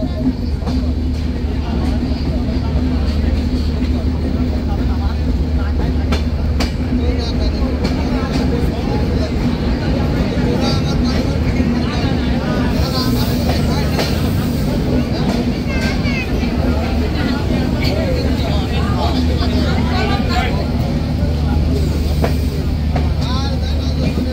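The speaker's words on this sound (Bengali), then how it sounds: "ট্রেনটি প্রবেশ করলো পাংশা" Madhumati Express passenger train running into Pangsha station, a continuous loud rumble and rattle of cars rolling on the track, with faint voices and station chatter mixed underneath throughout.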